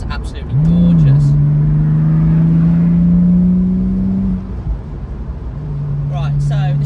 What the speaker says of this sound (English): And I love to listen to that flat six.